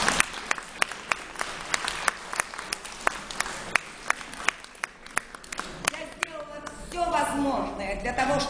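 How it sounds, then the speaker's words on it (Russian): Scattered, fairly sparse clapping from an audience at a creative meeting with an artist, distinct individual claps ringing out at a quiet level before a voice starts speaking near the end. "Ваши аплодисменты."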